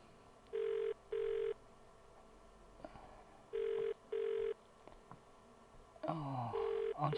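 A telephone rings in repeated double bursts, two pairs spaced a few seconds apart and a third starting near the end, with no answer; soft background noise sits between the rings.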